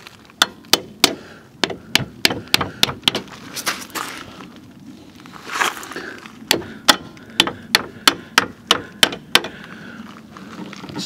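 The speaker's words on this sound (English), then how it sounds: "Might have to tap it with the pliers just to encourage it to go through." Sharp metallic taps from pliers knocking an axle through a caravan jockey wheel, about two dozen close, loud strikes in two quick rhythmic bursts with a short pause between.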